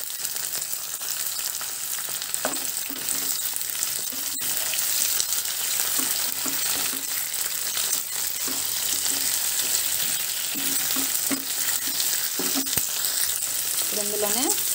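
Chopped tomatoes fry in a pan for a tofu and green peas masala curry, a continuous dense sizzle held steady throughout with occasional light stirring knocks, close and fairly loud with no talk.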